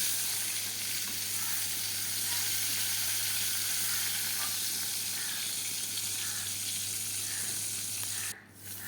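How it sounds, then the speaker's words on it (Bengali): Pointed gourd pieces frying in hot oil in a pan, a steady close sizzle with faint scraping as they are stirred, continuing without a break until it dips right at the end. "পটলগুলো ভাজা হয়ে গেছে, এবার আমি পটলগুলোকে আরেকটু নাড়াচাড়া করে একটু করে তুলে নেব।"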